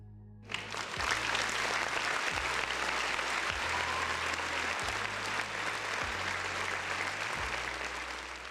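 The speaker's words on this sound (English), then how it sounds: "Another round of applause for the folks in the chat." Sustained applause sound effect on a gaming-talk livestream, a dense even clapping wash that starts abruptly after a brief pause and holds steady for about eight seconds, with a low repeating musical tone pulsing underneath.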